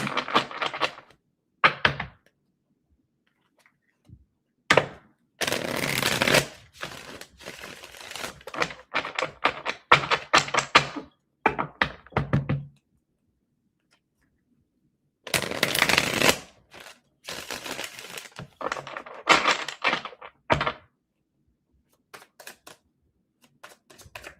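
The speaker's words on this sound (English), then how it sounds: "give me a few seconds here to really shuffle these" Tarot cards are shuffled in several bursts of crisp riffling and slapping, separated by short pauses, close and fairly loud with no talking.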